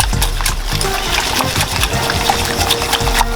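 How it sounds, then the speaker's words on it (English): Water at a rolling boil in a pot on the stove for homemade macaroni and cheese, a steady close bubbling and splashing wash that continues without pause. "Now that this water's come to a boil"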